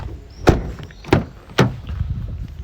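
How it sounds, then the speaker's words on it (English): The bonnet release of a 2017 Nissan Navara 2.3 dCi pickup is operated from inside the cab, giving three sharp, close thunks spaced about half a second apart against a quiet background. "just pop the bonnet."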